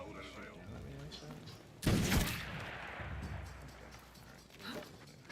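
A single sharp gunshot from an enemy firing down from above in Assassin's Creed Shadows, loud and sudden against a quiet background, followed by a fading tail and talk.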